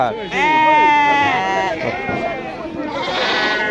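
Sheep bleat at a busy Moroccan livestock market in Timhdit, a loud nearby bleat followed by more wavering calls over a background of crowd noise and bargaining voices.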